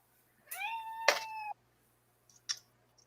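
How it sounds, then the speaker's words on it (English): A cat meows twice close by, a drawn-out cry followed by a second, then a brief short chirp after a pause in a quiet room. "That's my cat."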